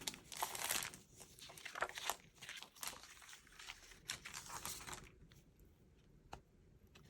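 Plastic packaging on a Snowflake Sky 3D embossing folder being pried open: close, loud crinkling and crackling in uneven bursts, followed by a few sparse, quieter crackles near the end.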